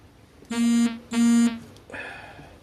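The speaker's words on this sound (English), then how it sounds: "Just got a message on my phone, that's why it beeped like that." Two loud, sustained electronic beeps from a phone, each about a third of a second, followed by a softer buzz.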